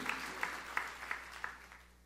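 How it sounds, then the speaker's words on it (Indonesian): A church congregation claps in praise, with faint, distant, evenly spaced beats about three per second over a soft hall murmur, fading slightly toward the end. "Tepuk tangannya balai meriah buat Tuhan."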